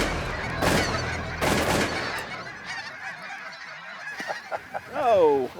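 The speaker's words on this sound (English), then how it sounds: "The ducks and geese coming in at the same time." Geese honk loudly, with ducks and geese flying in together during a waterfowl hunt in Alberta; two sharp shotgun blasts sound early on, and a close burst of honking comes at the end.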